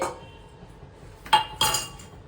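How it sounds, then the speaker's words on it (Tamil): Chopped ingredients for crispy wheat flour pakoda are tipped together into a bowl. After a quiet lull come two sharp clinks of utensil against dish close by, each trailing off into a faint ring. "கட் பண்ணதெல்லாம் நம்ம ஒன்று சேர்க்குறோம்."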